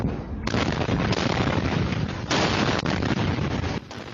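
A series of explosions rips through an illegal waste site holding magnesium and lithium compounds, loud back-to-back blasts merging into a continuous roaring, crackling barrage with sharp onsets and no voices.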